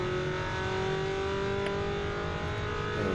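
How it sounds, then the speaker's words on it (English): A race car's engine drones steadily at close range during an endurance race as it heads into pit lane, a constant loud hum with a brief sharper note near the end. "here's me coming into pit lane to do my driver swap for that safety car"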